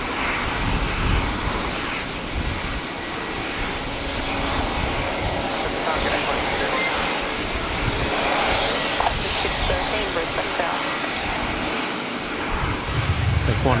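A Qantas Link airliner arriving at Brisbane Airport from Gladstone gives a steady broadband engine roar on a windy day, sustained and fairly loud throughout, with radio voice chatter faintly underneath.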